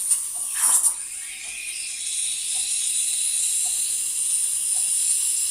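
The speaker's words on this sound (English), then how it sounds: "It's keeping the pressure up so it will have a nice steam stream" A steam wand hisses loudly and steadily, a broad continuous hiss after a brief sputter at the start, with faint periodic clicks underneath.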